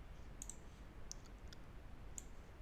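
A computer mouse clicks quietly a few times, sharp isolated ticks spaced irregularly over a low, steady background hiss.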